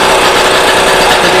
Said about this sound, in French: on va également vérifier si le moteur démarre